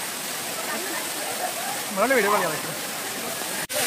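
A waterfall at Gaganbawda gives off a steady, broad rushing roar that fills the background, while someone talks briefly over it.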